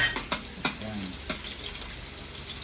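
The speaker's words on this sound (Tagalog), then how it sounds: "Ang bango talaga pag ginigisa ang bawang at sibuyas." Garlic and onion sautéing in a pan for ginisang togue, a soft steady sizzle broken by three or four sharp clicks of a utensil against the pan, close and fairly quiet.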